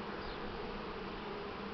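Buckfast honeybees buzz in a steady, continuous drone close by at the hive, with no voices over the sound.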